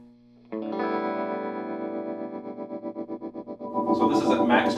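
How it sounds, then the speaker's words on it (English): An electric guitar chord rings out through a Vox AC30/4 amp, then its volume pulses in a steady, fast tremolo wobble, ending in a brighter, louder strum. "we're going to turn up and let you listen to a little bit of tremolo"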